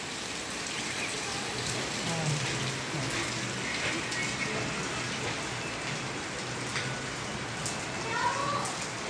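Heavy rain pours down in Chhatrapati Sambhajinagar, Maharashtra, as a steady, dense hiss of drops striking surfaces continues throughout.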